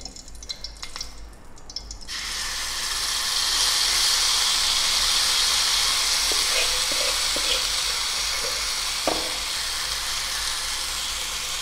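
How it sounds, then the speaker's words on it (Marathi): Masala spice mix dropped into a spoonful of hot oil for tandoori chicken, jumping from a quiet start into a loud, steady close sizzle with occasional small pops. "1 चमचा तेल टाकून घेत आहे. त्याच्यात हा मसाला टाकून घेत आहे."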